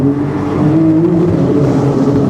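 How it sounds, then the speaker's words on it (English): A loud, close Porsche 911 GT2 RS engine droning and rising steadily in pitch inside a tunnel, a rich sustained roar with no voices. "Really loud pops and bangs, really loud everything in this car."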